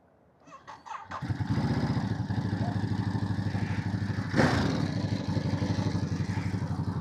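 A Ducati Monster 937 motorcycle engine starts after a few clicks, then settles into a loud, steady, throbbing idle up close, with a brief rev swelling midway.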